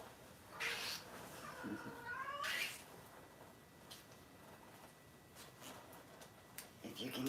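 A female cat meows loudly twice in drawn-out, wavering cries close by, followed by quieter rustling and a brief start of another sound near the end. There is no speech.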